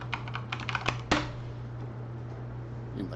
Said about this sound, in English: I'll type it out in chat.